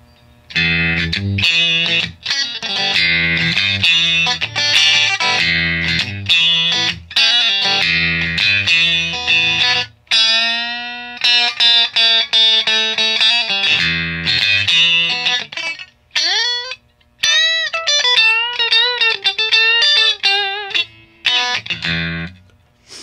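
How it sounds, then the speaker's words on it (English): Electric guitar, a Stratocaster with Texas Special pickups, through a Bugera 333XL amplifier with a gritty, bluesy tone, playing chords and then sustained bending lead notes, with short pauses between phrases. "It also gets a nice blues tone if you're using a Stratocaster with Texas Specials or something similar."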